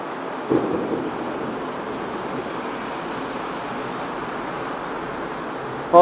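A storm pours steady heavy rain, with hail mentioned for the same storm, as a dense, even hiss throughout, broken by a short low thunder rumble near the start.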